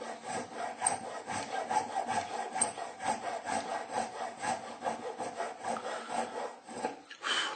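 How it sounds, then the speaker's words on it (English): Steady rasping file strokes on a bone nut for a banjo, close and continuous, each stroke a dry scraping rub with a loose even rhythm and no talk. "The closer I get, the slower I file."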